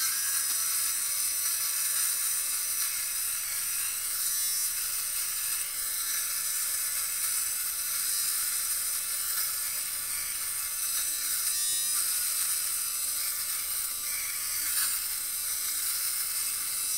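A battery fabric shaver buzzes steadily across knit fabric, its small blades lifting fuzz and pills in a continuous high whirring hum with slight scratchy variations, close and unbroken.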